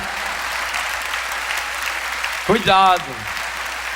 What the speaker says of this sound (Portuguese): Esse aplauso de vocês, isso é uma coisa linda, isso é uma coisa maravilhosa.